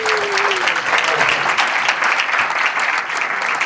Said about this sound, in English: Please give them a round of applause, my friends.